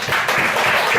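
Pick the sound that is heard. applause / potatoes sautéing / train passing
applause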